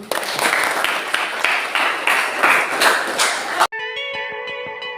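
Classroom of students clapping hands together, a dense rhythmic burst of claps for several seconds that cuts off abruptly, followed by a short ringing electronic chime tone.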